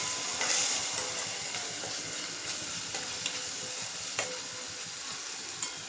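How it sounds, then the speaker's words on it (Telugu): Ground coriander-cumin powder and garam masala fry in a pan with a steady, soft sizzle and occasional stirring scrapes and taps, close and quiet, with no voices. "పచ్చివాసన అంతా కొంచెం పోయేదాకా ఇవి ఫ్రై చేసుకోవాలి."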